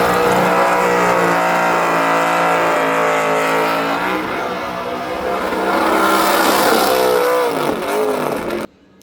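LS 6-liter V8 with stock bottom end, Holley High Ram and alcohol carburetor, running on a dyno: a loud, sustained close-range roar climbing in pitch through a pull, then abruptly cutting off.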